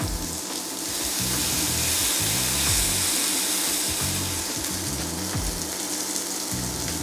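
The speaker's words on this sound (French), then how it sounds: "poisson ait le temps de bien griller tout doucement" Fish braising gently in a frying pan at low heat, a steady close sizzle with soft crackles and faint clinks underneath, continuous and unbroken, with no talking.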